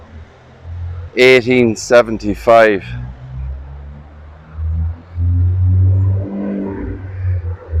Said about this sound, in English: I have to apologise for the noise. We're very near the street there in traffic.